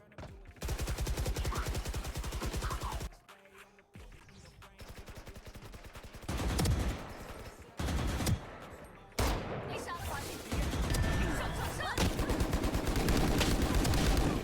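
Gunfire from the mobile shooter Valorant Mobile at ranked play, loud rapid bursts of shots with brief pauses between volleys, mixed with game effects and faint voice in the background.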